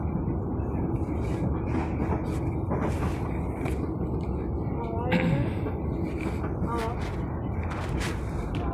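An Argo Cheribon train rumbles steadily along the rails between Tegal and Bekasi with rhythmic clatter, while an Indonesian onboard announcement speaks over it and brief squeals rise near the middle.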